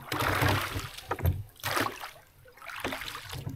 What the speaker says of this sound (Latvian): Bišķi ledus jāpastumda.